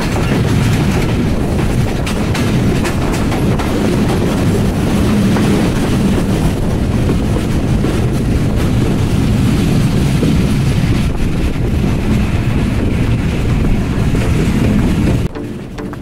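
Inside a coach of the Banglabandha Express, train number 804, the running train gives a loud, steady rumble with rhythmic wheel clatter and wind noise, continuous and close, easing slightly at the very end.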